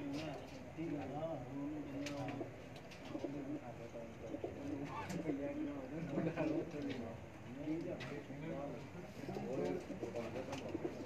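Lakhe pigeons coo repeatedly on a rooftop loft in Sheikhupura, soft rolling calls overlapping in a steady rhythm close by, with someone talking over them.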